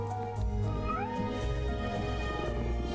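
A cat meows in an animated Batman Caped Crusader episode, Kiss of the Catwoman, a short drawn-out cry heard clearly over a steady background score.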